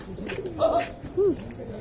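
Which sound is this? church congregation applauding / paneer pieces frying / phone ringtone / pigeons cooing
pigeons cooing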